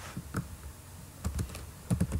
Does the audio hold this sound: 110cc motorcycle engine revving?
no